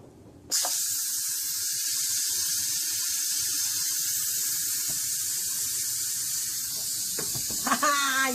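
Instant Pot pressure cooker venting: a loud, steady hiss of escaping steam starts abruptly and runs unbroken for about seven seconds, then gives way to brief clatter near the end.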